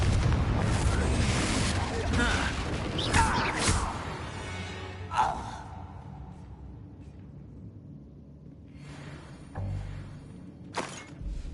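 A Confringo explosive spell bursts in Hogwarts Legacy with a loud roaring blast up front that rumbles and decays, followed by a few smaller impacts and crackles later on.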